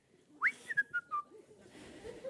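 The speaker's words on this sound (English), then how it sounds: "you know when you're in one of those moods because you start to whistle" A person whistles a short tune: one rising swoop followed by four quick, separate notes, fairly loud and close, and then a faint room tone.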